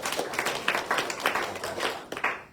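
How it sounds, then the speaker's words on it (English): Short burst of audience applause at a business networking education event, fairly quiet and thin, with uneven clusters of claps rising and fading over a couple of seconds. "Give her a round of applause."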